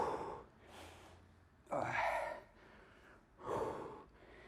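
Heavy, forceful exhales from someone doing a HIIT workout, three strong breath bursts spaced a second or two apart, close and loud against a quiet background with no talking.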